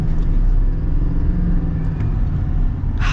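A 2024 GMC Sierra HD Pro heavy-duty work truck accelerating, heard from inside as a steady, loud low engine rumble and road noise with no talk.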